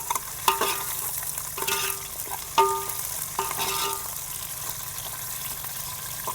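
Sliced onions fry in oil in a pan for kandi kattu charu, a lentil broth. A soft sizzle sits under several sharp clinks and scrapes from stirring, close and fairly quiet, with no speech.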